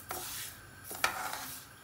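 Spices toasting in a dry pan for a Sylheti Bengali fish head curry, stirred with a utensil that scrapes and taps the metal in a few brief strokes over a steady soft sizzle, close and fairly quiet, with no voices.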